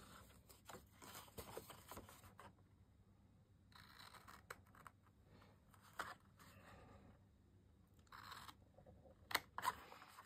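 Scissors snipping paper or card for a Christmas bauble ornament craft, a few short cutting bursts with pauses between them, close and fairly quiet with no talking.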